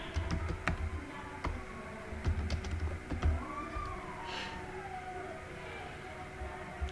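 Typing on a computer keyboard, quiet irregular clicks in short bursts over a faint room background, with no one talking.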